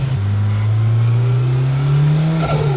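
A modified Isuzu Gemini engine pulls hard on the road, a loud steady drone climbing gradually in pitch under acceleration, with a brief dip like a gear change near the end and no voices.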